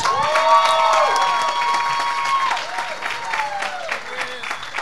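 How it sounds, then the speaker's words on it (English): A comedy show audience in Long Beach gives loud applause mixed with cheering and voices, easing off toward the end. "let's give a round of applause to John Hastings!"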